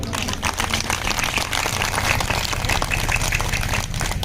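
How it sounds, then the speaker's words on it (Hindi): A crowd of farmers at an outdoor protest gathering in winter claps in a dense, crackling burst that stays loud and continuous, sounding somewhat like heavy rain. "उनके लिए एक बार जोरदार ताली बजाओ है।"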